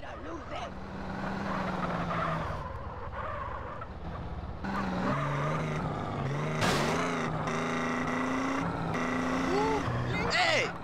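Cars in a street race in GTA San Andreas, engines revving and changing pitch with tire skids and passing vehicles, while voices talk over the driving.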